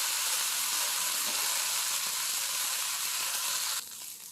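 Davanagere butter dosa roasting on a hot pan gives a steady, loud, close sizzle with a broad hiss that drops off sharply near the end.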